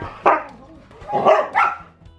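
A young puppy gives several short, close barks and yips in quick bursts, loud and clear with a brief pause between them.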